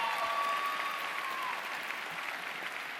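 Sustained applause from a graduation convocation audience, a steady dense wash of clapping filling the hall at moderate volume, continuing evenly without letting up.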